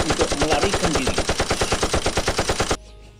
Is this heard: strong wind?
no